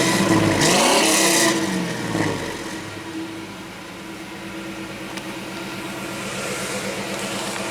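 A pickup truck engine revs loudly at first with a rising roar, then settles into a lower rumbling idle with a rhythmic pulse before building slightly again at the end.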